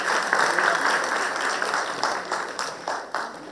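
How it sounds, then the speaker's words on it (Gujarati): Audience applause at a book launch event, a dense, sustained wash of clapping from a crowd that fades slightly toward the end. "એકવાર ફરીથી ડેઝી માટે ખૂબ તાળીઓ થવી જોઈએ"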